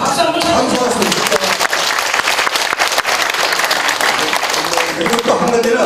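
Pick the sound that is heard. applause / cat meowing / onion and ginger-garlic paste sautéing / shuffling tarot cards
applause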